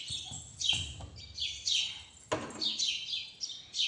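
Sparrows chirp near a house in a series of sharp, bright tweets, several overlapping calls close by, with a couple of soft knocks in between and no speech.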